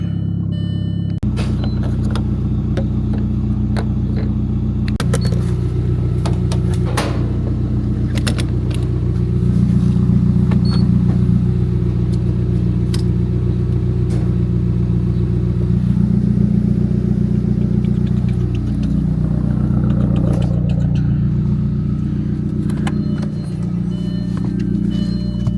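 An Audi B5 A4 car drives along a road, its steady engine drone and tyre rumble filling the cabin, with the pitch rising and falling gently as it accelerates and eases off.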